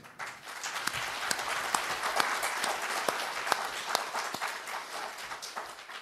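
A room full of people at a meeting of the Ivorian community with a French-speaking culture minister applauds steadily, a dense, even wash of clapping lasting several seconds.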